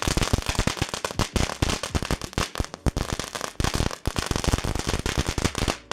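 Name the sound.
novelty firecrackers popping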